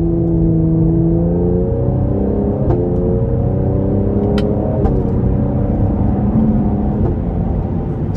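A 2024 Cadillac CT5-V with a 3.0 twin-turbo V6 pulls hard in manual mode under moderate throttle, its engine note rising steadily through the gears with brief dips at each shift, heard loud from inside the cabin.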